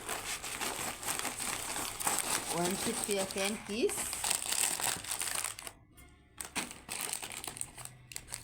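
A cardboard box of biscuit packets is tipped out by hand, with steady crinkling plastic wrappers and packets tumbling and rustling close up, while someone talks over it.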